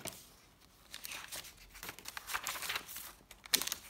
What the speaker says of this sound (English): this is heavily stained tracing paper, which I love the sound of.